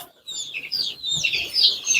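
Young chicks at a home poultry setup in Andijan chirp in quick, high, overlapping peeps, a small flock heard up close in a short burst.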